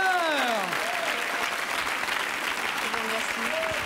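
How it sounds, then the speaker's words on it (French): A studio audience on a French television magic show applauds steadily and evenly, while the host's voice briefly speaks at the start and again near the end. "Annie, vous repartez avec les applaudissements du public."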